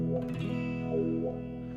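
Electric guitar played through a wah pedal rocked to the up position, giving a bright, treble-heavy sustained chord with a slow vocal-like sweep, steady and close with no talking.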